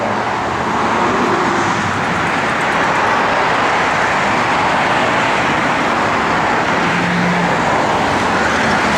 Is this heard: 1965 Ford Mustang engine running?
yes